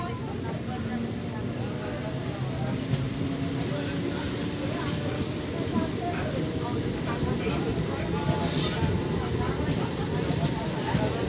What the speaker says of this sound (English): So we can see the train is finally departing from